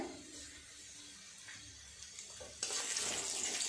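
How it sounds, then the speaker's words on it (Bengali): Crushed garlic and nigella seeds hit hot oil while preparing a Bengali fish curry with silver carp, giving a quiet hiss that swells into a louder, steady sizzle. "তেল গরম হয়ে গেছে, দিয়ে দেবো একটু রসুন।"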